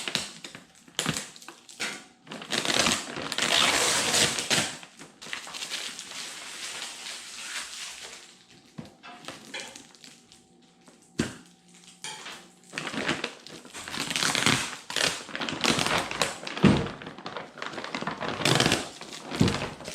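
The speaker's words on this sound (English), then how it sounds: "let's keep going with taking the packaging off" Packaging is torn and crinkled off a T-Rex Racing skid plate for a 2024 Honda Transalp, with close bursts of crumpling and rustling, short pauses and scattered taps.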